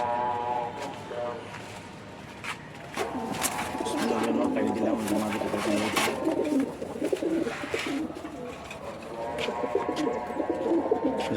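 Pigeons coo softly in repeated low, throaty calls close by, heard under a person talking.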